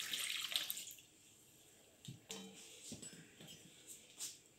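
Warm water poured into a bowl holding flour, a brief hissing splash at the start that fades, followed by a few soft knocks and faint handling sounds, quiet overall.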